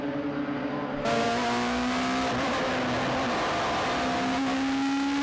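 Radical race cars, including an SR8, roar past during the 2007 Radical Enduro Cup in a battle for second place. Engines scream at high revs, shifting pitch as they pass, loud and continuous on the circuit.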